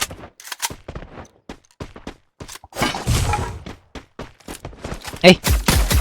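Sniper gunfire in a mobile battle royale tournament grand final, sharp, punchy shots and thuds scattered among the game's effects while a caster talks excitedly over the action.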